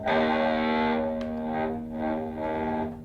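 Electric guitar played through distortion effects, a sustained, buzzing, heavily processed chord ringing loud and near, then swelling and fading in slow waves with a faint click midway.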